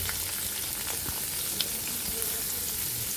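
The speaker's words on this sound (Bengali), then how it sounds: "এখন আমরা তেল দিয়ে ভেজে নিব" Chopped onion and garlic fry in hot oil for a bangi-leaf mash, giving a steady, dense sizzle with faint crackles throughout and no voices.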